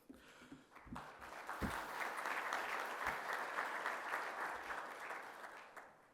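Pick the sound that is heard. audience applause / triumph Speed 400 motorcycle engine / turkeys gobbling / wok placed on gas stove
audience applause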